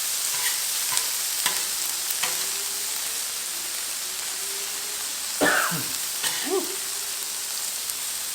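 Shrimp and peppers stir-frying on a Blackstone griddle at medium heat, giving a constant hiss of sizzling oil with occasional spatula taps and scrapes, plus a brief throat-clearing sound partway through.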